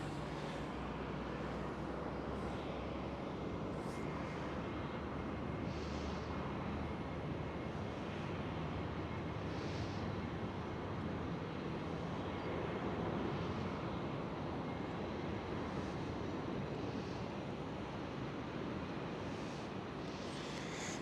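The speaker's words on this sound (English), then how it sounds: "Next one up on the runway lined up is KLM Cityhopper" A KLM Cityhopper Embraer E190 jet departing from a runway at Amsterdam Schiphol: a steady, broad engine roar heard from a distance outdoors, lasting throughout with light wind noise and no talk.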